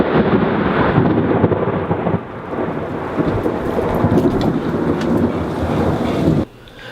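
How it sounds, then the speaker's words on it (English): A heavy thunderstorm with pouring rain, a dense continuous roar of rain and rumbling thunder with wind buffeting the microphone, loud and close, dropping off abruptly near the end. "This is Laura getting ready to brave this crazy thunderstorm."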